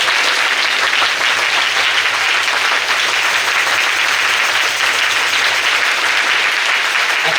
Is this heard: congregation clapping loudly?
yes